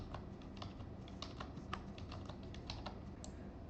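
Keys tapped on a computer keyboard to enter a PIN, a steady run of light, close clicks with no voices.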